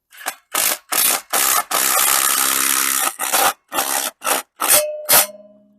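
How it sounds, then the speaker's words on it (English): An impact driver sets screws into concrete in a loud series of about ten short bursts, one longer sustained run in the middle, and a final burst that hammers as the screw tightens. "This is an impact driver."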